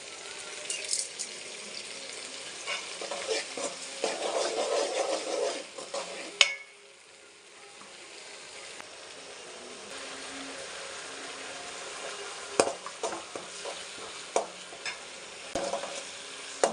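Chopped tomato sautés in a hot pan for a Tamil home-style ridge gourd dish, with a steady sizzle and scraping stirs that stop midway, then return more quietly with occasional clinks of the spoon; no one speaks.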